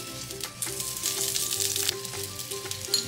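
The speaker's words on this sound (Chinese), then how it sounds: "我们要来开始煎我们的盘粿了" Slices of meat zongzi pan-frying in oil sizzle in a steady, bright hiss, with occasional scraping from stirring or turning. Close and continuous, with no talking.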